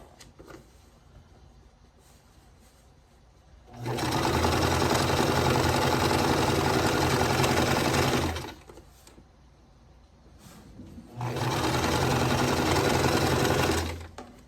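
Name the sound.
sewing machine stitching quilt appliqué stem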